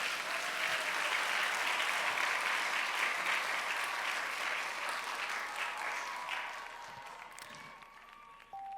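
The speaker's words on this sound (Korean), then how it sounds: "이쯤 되면 우리가 박수가 한번 나옵니다." A church congregation claps together during a sermon, a steady, moderately distant round of applause that gradually fades toward the end.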